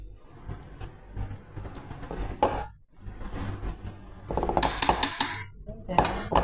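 A spoon or whisk clatters against a bowl while batter made with salt and one teaspoon of baking powder is mixed, giving uneven scraping and clinking with a brief pause midway and sharper taps toward the end.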